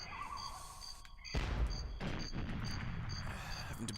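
A Gatling turret fires in the shooter GoldenEye 007, a sudden loud, dense stream of rapid shots that starts partway through and keeps rattling on, with lighter electronic game tones in the background.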